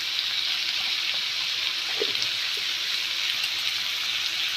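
Pieces of fish fry in hot oil with turmeric powder and salt, giving a continuous, even sizzle with a faint pop or two. It sounds close and steady throughout, with no talking.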